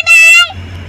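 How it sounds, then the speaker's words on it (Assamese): A train sounds a single loud, close, tonal horn blast lasting under half a second, followed by a low steady rumble. "ট্ৰেইনখন দেখিলে ভয় লাগে নহয়"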